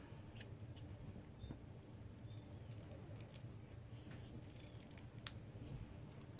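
Scissors snip through a thin strip of cardstock, close and quiet, with small crisp cuts spread across a steady low background hum and no voices.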